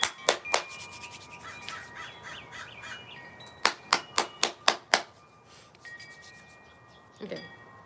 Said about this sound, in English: I just need to clap my hands a little bit